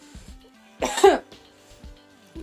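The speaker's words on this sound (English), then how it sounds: "I'm trying so hard not to cough right now." A single harsh cough bursts out near the middle, close and loud, over faint tonal video game sounds in the background.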